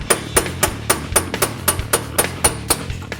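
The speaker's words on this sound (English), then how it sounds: "Using a round punch, tap the center of the CV axle into the spindle." A mallet taps a round punch against the center of a Honda Accord CV axle to drive it into the spindle, about a dozen sharp metallic knocks in a steady, even rhythm, loud and close with a ringing edge.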